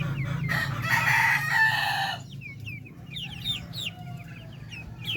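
Darag and upgraded native chickens in a backyard flock, with a rooster crowing loudly nearby in one drawn-out call, then scattered clucks and short chirping calls from the hens afterward.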